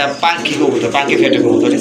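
Punki fat pigeons coo in soft, throaty rolling calls, several overlapping phrases close by, with a person speaking over the birds.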